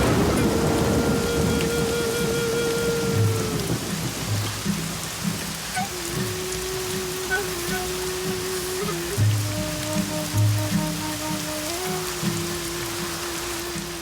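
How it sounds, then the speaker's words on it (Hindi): Heavy rain pours steadily on surfaces with a low rumble of thunder beneath, a dense continuous wash that stays loud throughout, with faint tonal sounds in the background. "बारिश रुकने वाली नहीं है बेटा"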